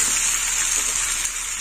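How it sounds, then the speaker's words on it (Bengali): Water being poured into a chichinga and potato curry cooking in a pan, a steady, close gushing splash lasting throughout without a break. "দিয়ে দিলাম জল"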